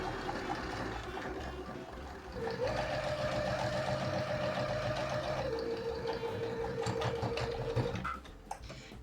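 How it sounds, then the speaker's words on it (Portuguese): Domestic sewing machine running a continuous stitch along the folded hem of an apron, with short reverse backstitching at the start and end; a steady mechanical whir, close and alone, with brief pauses and shifts in motor pitch. "fazer a costura no limite aqui da nossa dobra, portanto com o retrocesso no início e no final"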